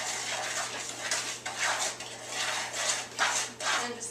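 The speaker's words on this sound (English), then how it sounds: "And just keep stirring that until it's mixed together smoothly." Chocolate cake batter stirred in a mixing bowl, giving a steady scraping, swishing rub with soft clinks of the utensil against the bowl, close and continuous with slight rhythmic surges.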